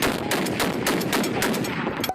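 The Shak-50 shotgun in the shooter game The Finals fires in a rapid string of loud, close, punchy blasts, about eight shots in quick rhythm before stopping abruptly.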